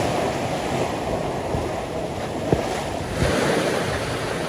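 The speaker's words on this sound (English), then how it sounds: "Water splashing up over the rod just now and again" Sea surf washing up around a fishing rod on a North Norfolk promenade at high tide, a steady broad wash with brief louder splashes near the middle and later, wind noise underneath.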